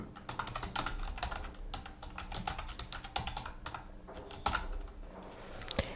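Fast clattering keystrokes on a computer keyboard, typed in quick, uneven bursts close to the microphone while names and a username go into a new Gmail account.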